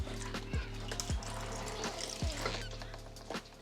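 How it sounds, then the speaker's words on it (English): Coolant drains from the radiator of a 2025 Ducati Panigale V2 tilted on its kickstand, a close, steady trickle and pour of liquid with a low periodic thump underneath. "you also may want to get the bike onto the kickstand just so you can lean it over and get the rest of the coolant out"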